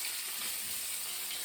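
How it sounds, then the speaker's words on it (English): Onions fry alongside salmon steaks in a pan, giving a steady, close, bright sizzle that holds evenly without pauses or speech. "Frying onions with the salmon kind of just gives it the flavor that it also just needs"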